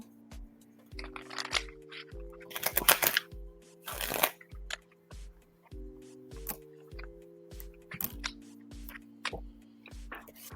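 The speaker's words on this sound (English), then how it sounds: "One more shuffle." Tarot cards being shuffled by hand, a series of soft crisp riffles and snaps in short bursts over quiet background music, close and fairly faint.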